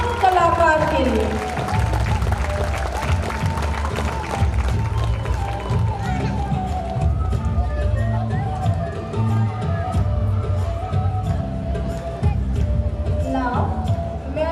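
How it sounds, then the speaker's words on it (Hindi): Audience giving loud applause for an artist at a school annual day function, continuous dense clapping mixed with crowd noise and voices throughout, with music-like tones over the top. "जोरदार तालियां इस महान कलाकार के लिए।"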